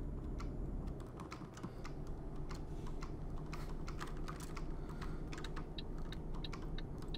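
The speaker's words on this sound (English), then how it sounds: "Even though I was pressing the keyboard button, it was just like not doing anything." Computer keyboard keys pressed rapidly during a Euro Truck Simulator 2 session, a dense run of close, light clicks and taps continuing steadily over a low background hum with no speech.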